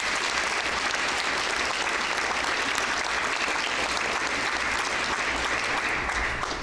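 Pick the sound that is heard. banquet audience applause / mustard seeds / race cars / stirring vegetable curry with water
banquet audience applause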